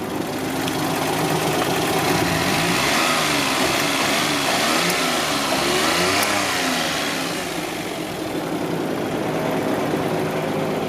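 Engine of a 1987 Suzuki Alto Works RS-X, a lightweight 1,300-pound rally-inspired car, revving steadily with a buzzy mid-pitched drone, rising and falling slightly at close range, with no talking.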